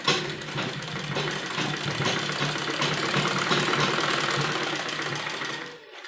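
A sewing machine stitches a child's lined kurti with a fast, steady mechanical whir and rhythmic needle chatter, running close and continuous for several seconds before slowing to a stop.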